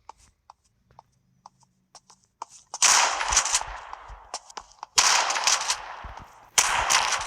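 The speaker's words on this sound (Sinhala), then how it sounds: "හරි එළම ෂොට්ගන් එකෙන් උණ්ඩ 3න් එක්කෙනෙක් මරුවා" Shotgun blasts in the video game Koboom arrive as three loud, sharp bursts spaced a couple of seconds apart, each trailing off in a noisy tail, after a stretch of faint scattered clicks.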